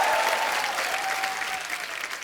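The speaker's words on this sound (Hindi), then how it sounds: "जोरदार तालियां" A studio audience at a comedy show applauding loudly, a dense continuous wash of clapping that fills the short moment.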